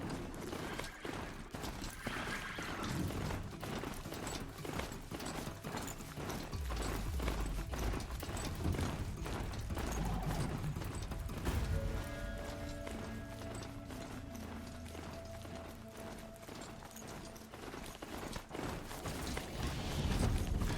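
Rapid, regular clip-clop of a robot horse's hoofbeats in Horizon Zero Dawn runs continuously under mechanical whirring and clanking, with a brief neigh-like tone partway through and faint background ambience.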